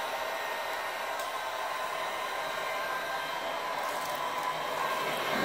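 A heat gun shrink-wraps bath fancies, giving a steady, loud, breathy blowing roar that holds evenly throughout with no talking.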